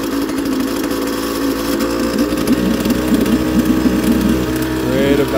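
A YADAO 3.5HP two-stroke, water-cooled outboard motor runs loud and close, its buzzing drone rising in pitch as the throttle is opened a little, steady throughout with no talk.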